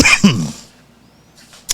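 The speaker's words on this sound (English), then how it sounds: "I still got this cough." One person coughs sharply twice at close range, followed by a faint breath and a brief soft noise at the end.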